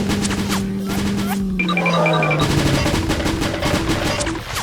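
A cannon on the back of a giant LEGO robot dinosaur fires in an animated scene, a loud rapid burst of blasts mixed with synthetic whining tones and crashing effects.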